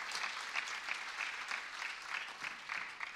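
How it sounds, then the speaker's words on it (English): Conference audience applauding, a continuous patter of many hands clapping at moderate volume through the whole stretch, with no voices over it. "Give a big applause."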